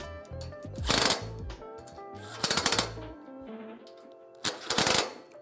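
A power tool tightens bolts on a winch rack for a Polaris Ranger XP, firing three short rattling impact bursts, close and loud, separated by pauses.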